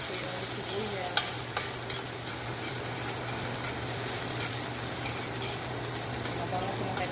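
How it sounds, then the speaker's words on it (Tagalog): Sliced onion dropped into a hot pan for escabeche, giving a dense, even frying hiss that holds steady throughout with a few faint clicks of utensils, close by. "ilagay ko na din po yung sibuyas"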